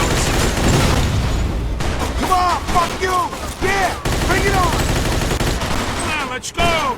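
Rapid bursts of gunfire in the Mafia II game, a dense fusillade of shots and machine-gun fire with booms, loud and continuous, while voices shout over the shooting.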